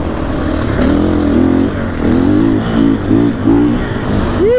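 A KTM 500 EXC-F enduro motorcycle engine revs hard at full throttle, close and loud, its pitch climbing and dropping in repeated surges as gears change, with no talk.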